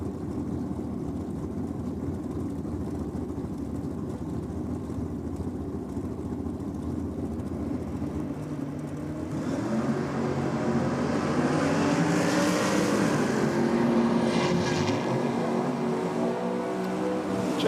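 A Ford Torino and a Datsun drag racing at a track championship, a steady engine drone that swells louder and rougher midway as the cars launch and roar past, with no talk.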